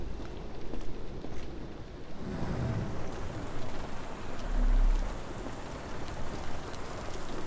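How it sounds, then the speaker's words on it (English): Steady rain falls in the Sherlock Holmes The Awakened video game, a dense, continuous hiss of drops on surfaces with a faint low rumble underneath. "This dreary rain is making a miserable day even worse."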